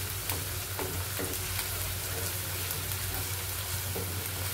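Grated and chopped onions fry in a pan with a soft, continuous sizzle, broken by the scrape and clatter of stirring every second or so, fairly faint and close.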